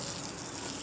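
Quiet, even hiss of water running from a tap or hose while a horse is washed, a continuous faint splashing stream with no voices.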